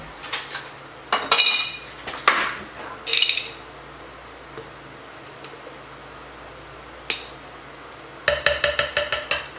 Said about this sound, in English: I'm gonna add more ice in here though because I want it